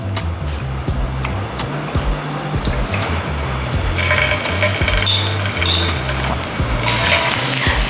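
Vegan chicken chunks sear in oil in a hot pan, with a continuous crackling sizzle and intermittent scraping and clinks as they are turned, close and fairly loud.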